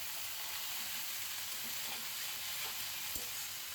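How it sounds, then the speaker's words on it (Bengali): Cauliflower, potato, beans, onion and garlic frying in a pan with fresh coriander, giving a steady close sizzle and crackle throughout with a faint stir or clink near the end. "আমি পেঁয়াজ রসুন বাদামি করে ভেজে এখন ফুলকপিটা দিয়ে দিয়েছি।"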